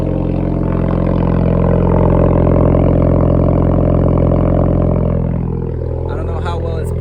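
Turbocharged Honda Civic with a straight pipe exhaust idling loud and deep right up close, a steady low drone that eases slightly near the end as a voice starts talking over it.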